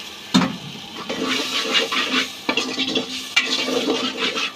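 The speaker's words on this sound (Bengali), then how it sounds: "মশলাটা ভাজা ভাজা হয়ে গেছে একটু পানি দিয়ে দিলাম" Fried spice paste hisses and sizzles in a hot pan as water is added, while a utensil scrapes and stirs in short strokes nearby.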